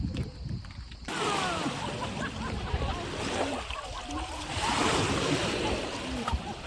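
Waves wash onto a beach with a steady roar of surf and rushing water, wind buffeting the microphone throughout; the first second is quieter before the surge sets in.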